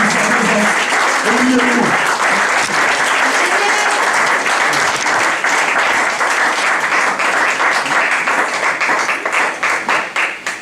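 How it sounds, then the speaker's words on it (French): A church seminar audience applauds to welcome the reverend in an auditorium, dense sustained clapping filling the hall for about ten seconds while a voice speaks over it, fading slightly at the end. "Si vous voulez bien qu'on puisse vraiment acclamer pour ce temps, pour le révérend"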